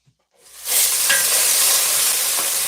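Food stirred in a hot frying pan for a healthy breakfast: a loud, steady sizzle with hissing steam, and faint scrapes of the utensil through the pan, with no talking.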